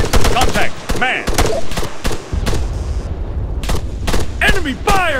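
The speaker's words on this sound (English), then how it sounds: "Enemy fire! Enemy fire! Taking fire!" Enemy gunfire in the video game Arma 3: loud, rapid bursts of shots crackle close by in uneven volleys, with excited voices shouting over the firing.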